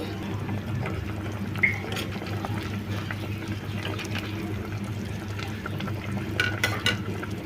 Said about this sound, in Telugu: కారం వేసి ఒకసారి బాగా కలిపేసుకోవాలి